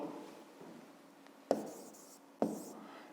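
A pen scratches out a math formula for a fifth-grade exercise, with soft continuous strokes and two sharper taps or clicks against the page, quiet and close.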